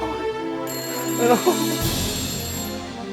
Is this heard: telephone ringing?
yes